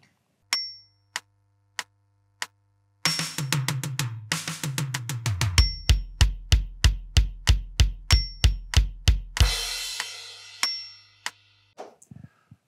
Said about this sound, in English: So the fill is two bars of 4-4, followed by a half a bar, so one bar of 2-4, and then we crash into the bridge.